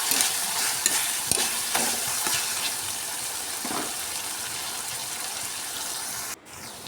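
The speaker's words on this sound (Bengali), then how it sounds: "তো সবগুলোকে আমি ভালো করে কষিয়ে নেব।" Spices with ginger garlic paste and Kashmiri chili powder are stir-fried in a pan for a potol and masoor dal curry: a steady loud sizzle with intermittent scraping strokes of a spoon, then a sudden drop near the end.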